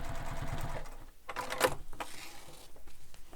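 A sewing machine runs stitching rows on a handbag, a steady mechanical whir that pauses briefly, then a sharp clack and the motor resuming at a quieter, uneven pace.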